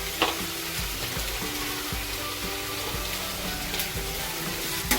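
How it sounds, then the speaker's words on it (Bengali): Whole garam masala spices fry in hot oil with a steady crackling sizzle, close and continuous, punctuated by soft clinks and scrapes of stirring. "তো আজকে গোটা গরম মশলা দিলাম। তো ভেজে নিই"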